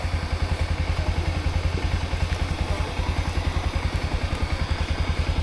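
A motorcycle engine running steadily nearby, with a rapid, even low-pitched putter and some mechanical clatter, no talk over it.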